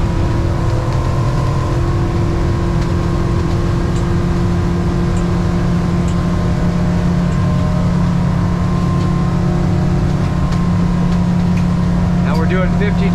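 Yamaha F200 outboard motor repowering a Grady-White 24 boat, running loud and steady at speed on the water with a constant droning whine and wind rush throughout.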